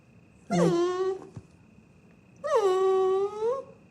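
A dog in a kennel gives two drawn-out, high, whining whimpers, each lasting about a second, separated by a short quiet pause, close and clear with no talking.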